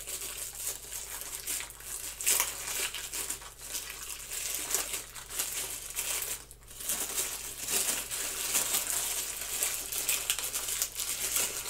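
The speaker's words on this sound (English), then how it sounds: "It's packed in a plastic bag, very tight." A condenser microphone is pulled out of a tight plastic bag, giving continuous close crinkling and rustling of plastic with steady handling noise and no talk.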